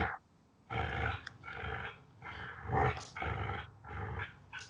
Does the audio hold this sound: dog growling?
yes